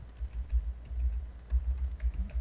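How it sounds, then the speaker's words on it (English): Keystrokes on a computer keyboard while typing a search query, a quiet run of soft clicks against low background hum. "If I go to Google and I type in Cleveland"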